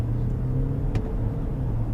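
Muted low engine drone inside the cabin of a BMW 520 F10 LCI with a 2-liter turbocharged engine, a steady subdued rumble with little intrusion, continuous and without talk.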